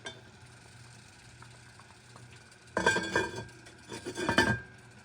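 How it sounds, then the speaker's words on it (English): Pot lid set back over a pot of black-eyed peas, a close clatter of metal and glass bursts in two short clusters after a quiet stretch of low room hum. "we're gonna put the lid back over it"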